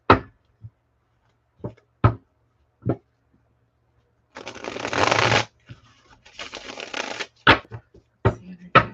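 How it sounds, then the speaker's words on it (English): Decks of oracle cards being handled and shuffled at a reading: sharp taps and flicks of cards, then two longer riffling bursts, close and clear with quiet gaps between, no talk. "Once I finish this pre-shuffle, I am going to get started"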